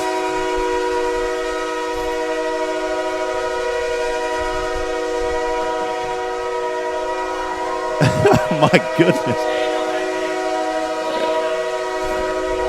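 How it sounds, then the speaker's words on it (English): A train horn sounds in long sustained blasts behind a high school baseball game, steady throughout with short clattering bursts of crowd noise and a brief spoken exclamation partway through. "Well, I guess the train got stuck there."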